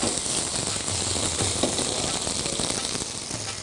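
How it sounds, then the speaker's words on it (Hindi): Potatoes fry in hot oil in a pan while cooking aloo ki launji, a steady loud broadband sizzle and hiss close up, continuous with slight crackles throughout. "ताकि आलू वो भी हल्के से फ्राई हो जाए तेल में"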